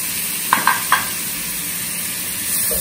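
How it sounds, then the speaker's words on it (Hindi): A spatula stirs potatoes frying in a pan: a steady close sizzle of oil runs throughout, broken by three quick scraping strokes in the first second. "देन यू स्टर, अच्छे से उसको स्टर करिए।"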